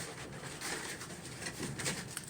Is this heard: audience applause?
no